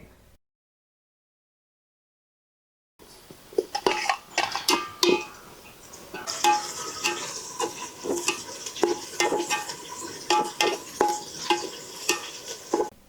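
Sliced onions and green chillies frying in a pan for mutton curry, with a close, steady sizzle and repeated scraping and clinking of a spoon stirring against the pan, starting after a few seconds of silence.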